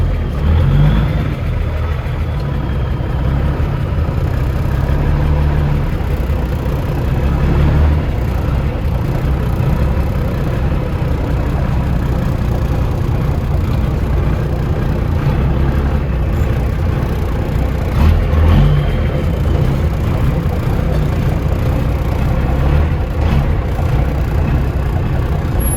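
A Ford L9000 truck engine runs with a lopey, uneven idle, a loud steady low rumble with occasional swells as the throttle is blipped, with no talking over it.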